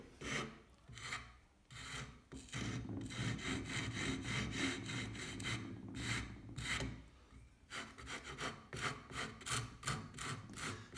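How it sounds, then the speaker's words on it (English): A rasp files a wooden CO2 dragster body by hand, a close series of rough rhythmic scraping strokes with short pauses between bursts, heard alone. "So we're going to rasp our whole design first"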